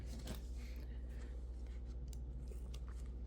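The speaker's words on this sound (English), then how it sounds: "Scissors." Scissors trim around fabric close by, a few quiet cuts over a low steady hum, with no talking.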